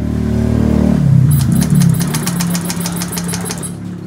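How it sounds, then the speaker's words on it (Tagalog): A motorcycle engine with a fuel pump pressure fault is cranked and briefly revved, giving a loud low drone that rises and then settles, while a fast rhythmic ticking rattle runs through the second half. "subukan natin paandarin yung motor ni boss"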